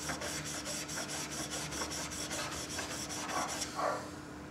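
The back of a woodworking chisel being flattened on a sharpening stone, a close steady rasping scrub in quick regular back-and-forth strokes that stops near the end.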